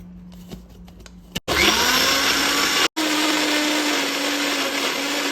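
A mixer grinder whirs at full speed through onion, ginger, green chili, mint and coriander for a fine paste, starting after soft clicks, cutting off briefly mid-run, then resuming its loud, steady high-pitched roar.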